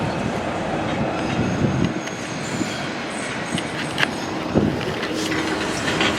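A Blackpool tram rolls past close by, a loud continuous rumble with clattering wheels and metallic squeals.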